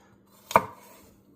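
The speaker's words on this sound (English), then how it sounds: "I like to chop the ends of the carrots off." A single sharp knife chop through the end of a carrot on a cutting board, one crisp close thump in an otherwise quiet kitchen.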